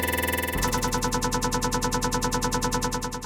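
A granular synth loops a sampled drop in fast, rapid pulses after a brief softer intro, buzzy and dense, steady and repetitive with no talking.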